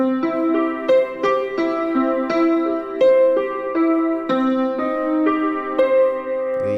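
Major chords on a keyboard struck one after another in a steady, moderate rhythm, each ringing bright and full before the next is played, with no voices.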